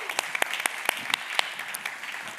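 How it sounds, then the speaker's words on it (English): Short burst of audience applause at a blockchain industry summit, scattered claps with several crisp nearby hand claps standing out over a modest room crowd. "let's give a round of applause"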